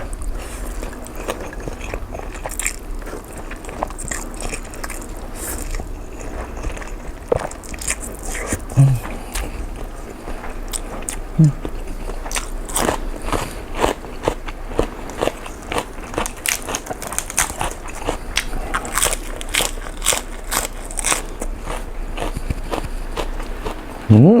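Someone chews and bites into stir-fried instant noodles with seafood, Thai drunken-noodle style, close to the mic. Irregular crunchy, crackly bites and mouth sounds run steadily throughout, with no talking.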